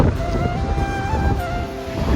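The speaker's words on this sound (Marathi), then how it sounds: "एवढा वारा सुटलाय ना, बघू शकता." Strong wind roars across the microphone in a dense, continuous rush at Bandstand, Mumbai, with a faint engine-like hum underneath.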